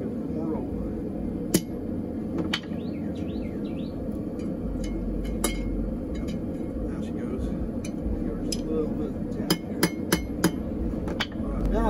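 Sharp, ringing hammer blows strike hot steel on an anvil while forging a spoon, at an uneven pace, some loud and some lighter, over a low steady background rumble.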